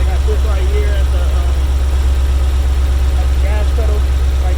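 A 1994 Chevrolet Caprice Classic with an LT1 engine, held at a raised idle with the gas pedal propped and parked beside a house, gives a steady low rumble that runs throughout while someone talks over it.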